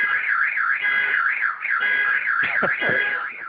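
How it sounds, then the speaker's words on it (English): A car alarm wails with a warbling, rising-and-falling tone on a New York street, sounding continuously at moderate distance with faint street noise. "Car alarms following me everywhere I go in New York."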